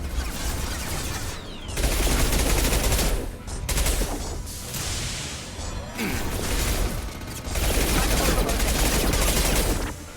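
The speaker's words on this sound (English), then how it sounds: "Taking fire." Heavy gunfire from the video game Mass Effect Legendary Edition crackles in dense, sustained bursts with brief lulls, loud and close throughout.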